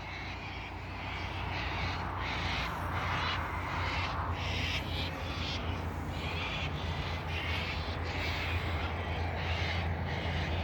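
A flock of crows calling beside a highway near an old railway level crossing, a continuous overlapping chorus of caws at moderate distance over steady outdoor background noise.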